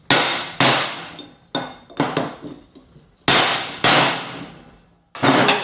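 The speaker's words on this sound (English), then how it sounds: "A couple of quick smacks with a hammer and let's see what happens." Hard metallic hammer blows strike a Nissan S13 front wheel bearing, about eight sharp ringing clangs at uneven intervals, loud and close with short decaying rings.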